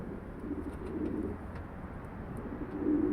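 Pigeons in a coop coo softly and continuously in a low, rolling murmur, with faint chirps above, somewhat distant and steady.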